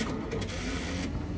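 McLaud MP2400 DTF printer cutting its media, a steady mechanical whir with faint ratcheting and clicking running continuously at close range.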